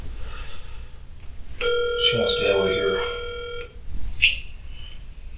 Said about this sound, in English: I'm gonna call the state attorney real quick on my phone